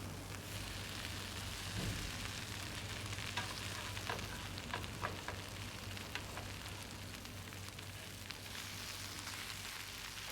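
A vegetable cake fries in lard in a pan, a steady close sizzle crackling throughout as it is turned over, with a few faint scrapes and clicks on top of the continuous hiss.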